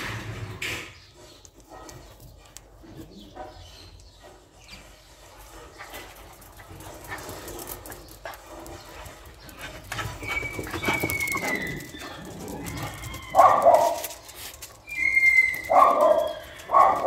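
Dogs bark somewhere away from a farm stall, a few scattered barks that grow louder near the end, mixed with birds cooing and chirping in the background.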